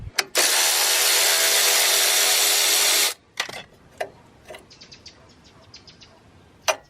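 A 10mm bolt comes off the upper control arm of a Chevrolet Silverado or GMC Sierra pickup, a loud continuous whir of a power tool lasting about three seconds, followed by scattered clicks and small metallic taps.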